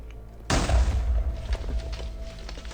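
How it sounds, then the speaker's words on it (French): Explosion deep in an abandoned metro tunnel in Minecraft, a sudden loud boom with a heavy low-end thud that hits at once and then trails off into a long rumbling decay. "Il y a une explosion."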